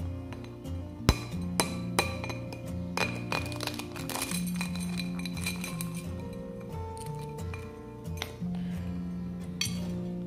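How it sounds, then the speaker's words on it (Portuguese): A hard-boiled egg cooked in an air fryer is cracked open against a hard surface, giving a few sharp clinks and taps with scattered smaller shell clicks, close and fairly loud, with no speech over it. "E agora eu vou partir aqui pra gente ver como ficou nosso ovinho"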